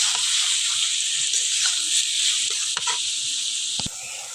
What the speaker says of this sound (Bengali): এখন অল্প পরিমাণে হলুদ আর লবণ দিয়ে আমি এগুলো ভাজবো।